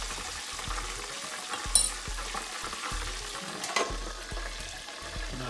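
Popeyes-style chicken fries in hot grease in a home kitchen, a steady close sizzle with a few louder pops and stirring knocks as the pieces are turned, no voices.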